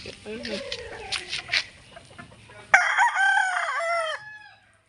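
A rooster crows loudly at close range in a chicken coop, a single drawn-out call that follows clucking and someone talking.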